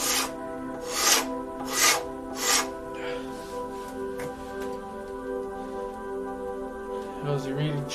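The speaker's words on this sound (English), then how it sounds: "I'll probably have to use a rasp in this section" A rasp files carved wood in four coarse, rhythmic strokes near the start. The scraping then stops, leaving soft tonal background music.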